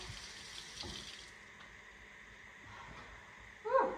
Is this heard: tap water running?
yes